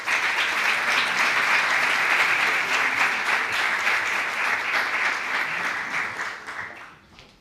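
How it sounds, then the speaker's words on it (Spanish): Conference audience applause greets the president of Valencia Silicon Cluster as she takes the stage, a full steady wash of clapping that holds strong before tapering off quickly at the end. "Un aplauso para Maite Bacete, presidenta de Valencia Silicon Cluster"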